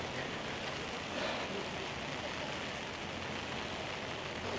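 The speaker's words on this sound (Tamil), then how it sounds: "மழையை பாருங்க, இங்கே" Steady rain falls on a Hawaiian mountain near a waterfall, a constant dense hiss filling the whole stretch at moderate level with no clear talk.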